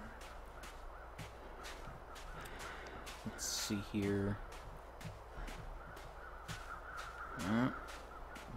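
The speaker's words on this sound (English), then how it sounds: "Birds overhead." Crows caw overhead in The Long Dark, a few harsh calls coming in short bursts over a windy outdoor ambience, with a person talking briefly.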